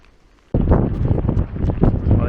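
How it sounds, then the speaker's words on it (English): Heavy rain pours by the sea in La Gomera, a sudden loud dense wash of rain and wind noise that starts abruptly after a quiet moment and continues steadily. "Well, it is absolutely peeing down now, as you probably can tell."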